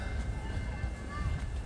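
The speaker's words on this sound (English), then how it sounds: "I'm going to get a view here of this train pulling in before I walk around" A commuter train pulls into Montreal West station with a low rumble and faint squealing wheel tones over steady outdoor noise, heard from the platform area in a short stretch without talk.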